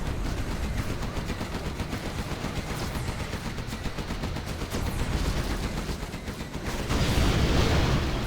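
Nuke cannon units in a real-time strategy battle on Arizona Airfield, China versus Tank, unleashing dense continuous rattling gunfire and blasts that swell into a louder burst near the end.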